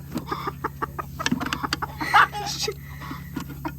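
A brooding hen clucks in short, scattered bursts while sitting over a clutch of baby rabbits, close by, with a few louder clucks in the middle and a low steady hum underneath.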